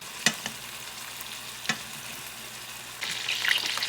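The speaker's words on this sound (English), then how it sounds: "We're gonna sear this on all sides." A herb-rolled lamb sears in a pool of hot butter with a low, steady sizzle. A few sharp clicks of a utensil touch the pan, and the frying grows brighter toward the end.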